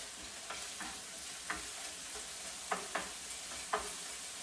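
Pork with green onions cooks in a pan under a steady, soft sizzle, with a few light scrapes of stirring at irregular intervals.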